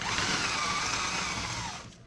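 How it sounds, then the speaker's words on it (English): A power drill whines at high speed for about two seconds, steady and close, then cuts off with a brief clunk at the end. "Nice drilling technique."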